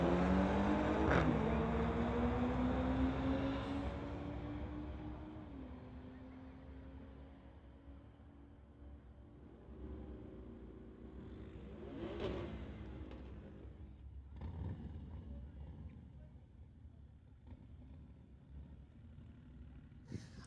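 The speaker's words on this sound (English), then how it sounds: "Jashu Lai driving his 2022 BMW, going against Max Lai in his 2020 BMW." A 2022 BMW and a 2020 BMW launch down a drag strip. A loud roar of accelerating engines rises with climbing pitch, then fades into the distance, leaving faint engine noise and a few distant bursts.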